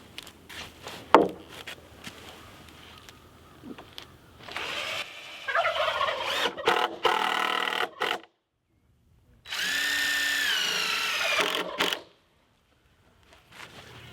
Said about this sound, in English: We're just going to screw these to both sides, and that'll just sturdy everything up to help hold the weight of the compost.